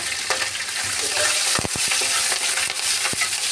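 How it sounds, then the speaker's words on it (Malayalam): Ginger, crushed garlic, green chilli, curry leaves and onion sauté in hot oil, a loud close sizzle broken by several sharp clacks of a spoon stirring against the pan. "ഇപ്പം എണ്ണ ചൂടായിട്ടുള്ള ഞാൻ ഇതിനകത്തോട്ട് ഇഞ്ചി, വെളുത്തുള്ളി അരച്ചത്, പച്ചമുളക്, കറിവേപ്പില"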